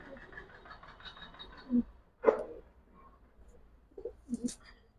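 Giribaz high-flyer pigeons give a few soft, separate coos and rustles at close range in a quiet space, with long pauses between the short calls.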